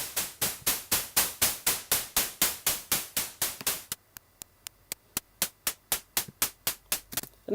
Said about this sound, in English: there we've got an effect like a hi-hat.